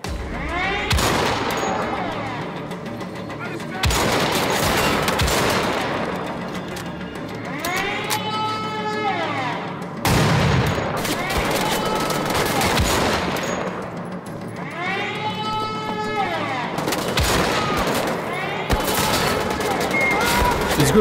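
Rapid bursts of automatic gunfire in the video game Wolfenstein The Old Blood, loud repeated volleys separated by short pauses with metallic mechanical clatter, and a voice talking over them.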